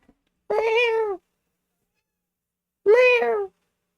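A cat meows twice, each call a clear, drawn-out tone with a pause of about two seconds between them, close and loud against silence.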